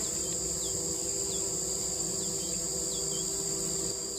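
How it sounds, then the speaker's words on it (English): Steady buzzing of bald-faced hornets hums close by, a continuous drone with faint repeated chirps layered over a constant high whine. "I think those are like bald-faced hornets or something."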